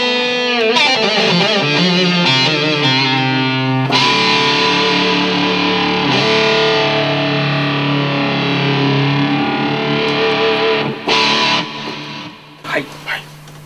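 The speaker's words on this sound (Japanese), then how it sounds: "このギターの音色はディストーションがかかっているギターです" Distorted electric guitar patch played on a Yamaha MOX synthesizer: sustained, buzzy, overdriven chords and notes ring loudly for most of the passage, then break into a few short stabs near the end.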